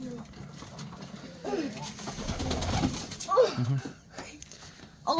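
Embroidered pigeons coo in short low bursts among scattered bird calls, fairly near, with occasional human voices and rustling in the background.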